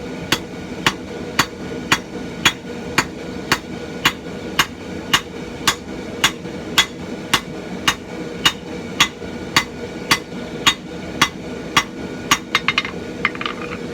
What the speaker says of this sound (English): So, just holding upright, striking on the spine.